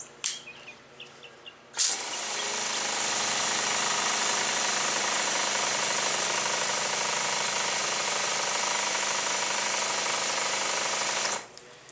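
An irrigation sprinkler fitted with a J-rod nozzle and fed by an engine pump sprays with a loud continuous hissing rush that starts abruptly, holds steady for about ten seconds, then cuts off.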